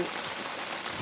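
Rain falling steadily outdoors in a forested hill area, a dense even hiss of drops with no breaks, fairly close and alone without talk.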